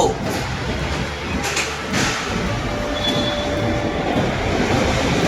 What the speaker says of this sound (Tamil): airport metro